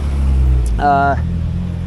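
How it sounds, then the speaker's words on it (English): Street traffic in Mexico City: a steady low rumble of cars and engines runs throughout, with a brief bright tonal burst in the middle that could be a horn. "there's a ton of traffic, tons of honking"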